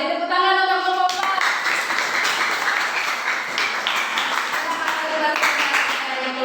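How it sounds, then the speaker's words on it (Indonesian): Classroom clapping for group 4, dense and steady under children's voices and a sustained tonal layer, continuing throughout. "Beri tepuk tangan untuk kelompok 4."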